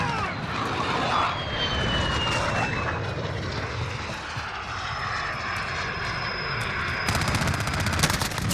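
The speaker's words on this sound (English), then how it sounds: "Enemy VTOL jet in the AO." Jet aircraft noise from an enemy VTOL jet in the Call of Duty Modern Warfare video game, a loud continuous roar with a slowly sweeping whine, under battle clutter and scattered gunfire.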